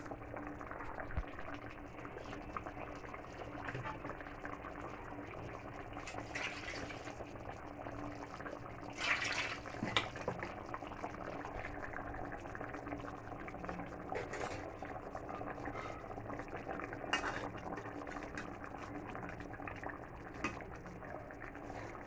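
Rohu fish curry with fried fish, chopped tomato and lentil dumplings simmers in a pot, giving a faint, steady bubbling hiss with occasional louder pops and splutters.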